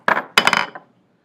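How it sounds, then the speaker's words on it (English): A textured metalworking hammer strikes metal twice, with a single sharp ringing hit and then a heavier clanking blow with brief rattling, close and loud before fading to quiet. "I would also like to use a textured hammer to show you what that's like."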